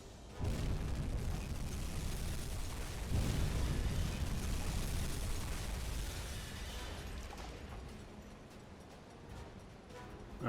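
Torpedo hits explode against a Liberty ship in the UBOAT submarine game: a loud, rumbling blast that swells again at about three seconds, then a long roaring decay with no voices over it.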